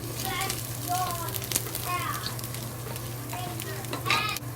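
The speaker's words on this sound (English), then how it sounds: "put a little ginger to it to see if the oil is ready" Pressed ginger dropped into hot frying oil crackles and sizzles steadily, while a voice talks intermittently over the sound.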